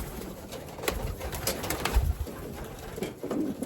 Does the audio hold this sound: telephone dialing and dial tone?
no